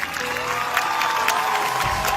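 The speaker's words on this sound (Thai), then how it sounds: "ขอเสียงปรบมือด้วยค่ะ" Crowd applause and cheering at a school speaking stage event, after a 14-year-old student's speech; sustained clapping with whoops and shouted voices, moderately loud and continuous throughout.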